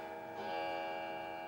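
Several clocks in a home tick together, a steady ticking layered over ringing resonant tones, moderately loud and close, with no one talking.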